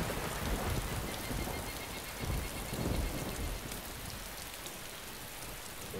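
Steady rain falls continuously in the DayZ video game, a dense hiss of drops with a few louder rumbling swells, no speech.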